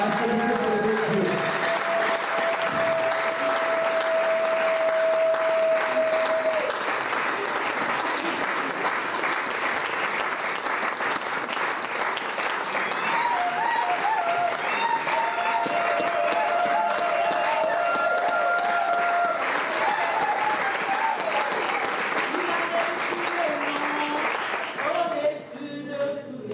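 A church congregation applauding and cheering to welcome a prophetess, dense sustained clapping for about twenty-five seconds with crowd voices and shouts mixed in, loud and steady before trailing off.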